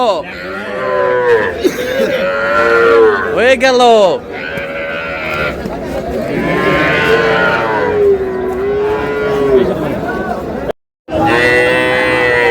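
Sahiwal breed cattle at a livestock market in Sylhet, a series of loud, close, drawn-out moos and bleat-like calls from several animals, with people talking and crowd noise around them.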